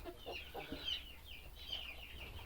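A hen clucks softly in a few short, scattered calls, fairly close and with no one speaking.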